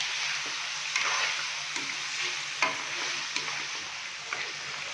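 Beef fries in oil in a karahi, a constant bright sizzle with occasional clinks and scrapes as the meat is stirred and turned.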